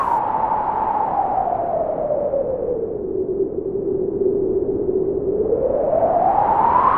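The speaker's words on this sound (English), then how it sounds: "we can turn that resonance even higher, and it's gonna start oscillating" A Bullfrog XL synthesizer filter self-oscillates at high resonance, producing a steady pure tone that glides smoothly downward, holds low, then sweeps back up, alone and fairly loud over a hissy noise bed.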